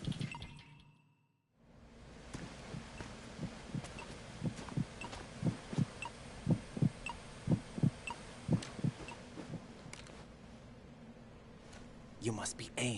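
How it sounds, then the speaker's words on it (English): An amplified heartbeat from a man with a pacemaker, picked up with a directional microphone in the Metal Gear Solid 2 video game, gives steady, rhythmic low thumps that grow louder and then fade under an ambient hum. "His heartbeat should sound different from other people's, so use the directional microphone to locate him."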